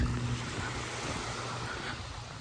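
Ocean waves at Honeymoon Island beach in Dunedin, Florida, a continuous rushing surf wash with wind buffeting the microphone, steady and full throughout.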